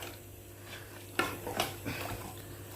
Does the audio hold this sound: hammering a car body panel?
no